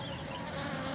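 Wild Apis cerana bees, the Javanese honeybee, swarming close by, a dense continuous buzzing drone that holds steady and loud throughout, with no voices.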